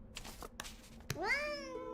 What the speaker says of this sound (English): Meow, Kato